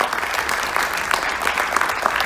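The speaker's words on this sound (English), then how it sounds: "We can give them a wonderful round of applause" Steady applause from a crowd at a military appreciation event, many hands clapping continuously at an even level with no voices rising above it.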